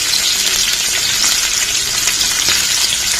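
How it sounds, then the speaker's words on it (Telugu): Onions sizzle loudly in a hot pan for a mixed vegetable curry, a dense crackling hiss with small pops and faint stirring scrapes, close up and with no talking. "ఇప్పుడు మనం ఆనియన్స్ వేసేసుకుందాం."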